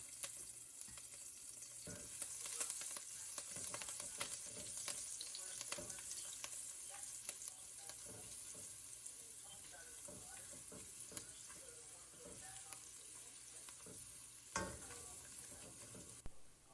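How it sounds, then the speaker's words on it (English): Garlic and green chilies sauteing in a pan for South Indian sambar, a steady dense sizzle with scattered stirring scrapes and clicks throughout, fairly quiet and continuous with no voices. "Add in the garlic and green chilies and saute for another 10 to 15 seconds."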